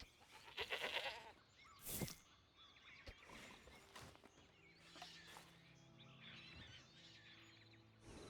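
Alpine goat bleating in Red Dead Redemption 2, several short cries in the open under soft ambient game sound, with no one talking.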